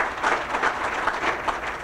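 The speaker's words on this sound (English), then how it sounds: "Let's give him a round of applause." Audience applause at a school campus opening ceremony, a steady patter of many hands clapping at moderate distance, fairly even for nearly two seconds.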